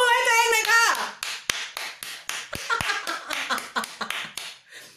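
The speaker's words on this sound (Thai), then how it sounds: "ปรบมือให้ตัวเองหน่อยค่ะ" An audience claps for themselves at a talk, a burst of sharp hand claps following a sung tone, then steady separate claps trailing off over several seconds.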